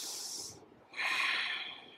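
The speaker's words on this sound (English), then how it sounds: "Take a few deep breaths here." Deep breaths taken while holding a yogi squat during a moon salutation yoga flow, a breathy exhale followed after a brief pause by a stronger, longer breath, close and clear with no talking.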